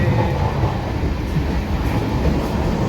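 Inside a moving train coach, a dense, continuous rumble and rattle of the carriage fills the space, loud and steady with no distinct voices.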